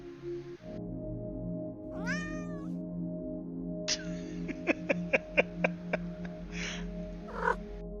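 A cat meows in a rising, drawn-out call near the start, then lets out a quick run of short, sharp meows, with one more cry near the end, all heard over a steady low hum.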